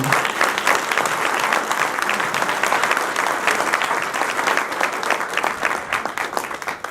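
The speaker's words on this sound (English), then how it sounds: "A round of applause for all of them." A crowd at a Democratic Party event gives a round of applause, steady and full for several seconds with a faint voice or two underneath.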